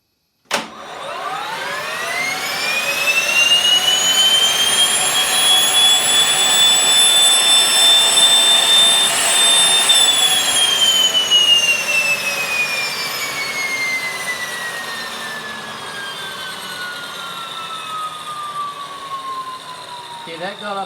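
A Solar T-62 turbine engine turned by its starter alone whines upward in pitch over about ten seconds, holds a loud steady scream, then winds down with a long falling tone after the starter cuts out.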